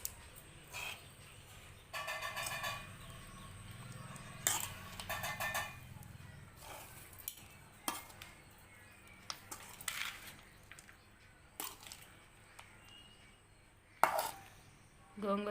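Gongura pulihora stirred in a pan, with irregular metallic scrapes and clinks of a spoon against the pan, close and fairly quiet, plus brief louder knocks.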